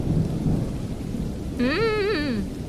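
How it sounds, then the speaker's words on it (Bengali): Steady cartoon rain with a low rumble of thunder, a constant wash of sound, while a brief wavering musical or synthetic tone rises over it near the end. "মনে তো হয় না আজ বৃষ্টি থামবে।"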